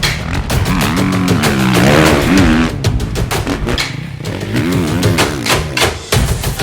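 A 2018 Suzuki RM-Z450 450cc motocross bike roars close by at Glen Helen Raceway, its engine revving up and down through rising and falling pitches with sharp bursts, loud and continuous.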